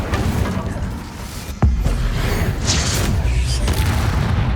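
Incendio fire spell cast in Hogwarts Legacy: a sudden loud burst and low boom partway through, over a continuous bed of game noise and rumbling effects, with later flickering crackles.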